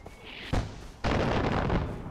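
Mortar shell explosions in the video game Far Cry 4 land at an outpost: two heavy booms, a sharp one at half a second and a longer rumbling blast a moment later.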